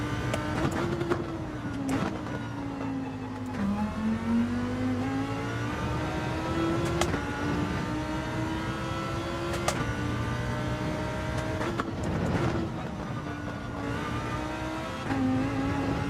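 A race car engine in Gran Turismo 7 revs and shifts repeatedly, its pitch climbing, dropping and climbing again over several gear changes, steady and fairly quiet with no voices over it.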